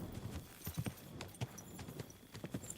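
Horse hooves clip-clopping along a countryside path in the video game Kingdom Come: Deliverance 2, an irregular trot of soft, fairly quiet thuds over a low ambient bed.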